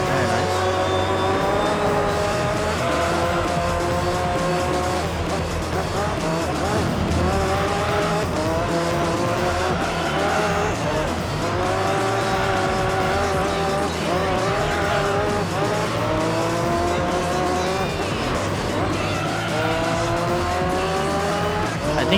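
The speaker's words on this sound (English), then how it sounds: "I think we're just drifting the GT1" A GT1 race car drifting in Gran Turismo 3, engine revving in repeated rising and falling sweeps with continuous tire squeal, loud and steady throughout.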